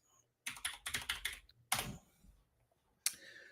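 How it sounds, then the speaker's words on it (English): Clicky computer keyboard typed in quick bursts of sharp clacking keystrokes, close and fairly loud, with short pauses between runs and no talking. "Clicky keyboard time, guys."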